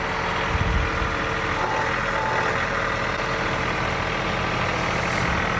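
A farm tractor's engine idling during a load lift. A steady, rough low engine rumble runs throughout, fairly close and even in level, with no talking.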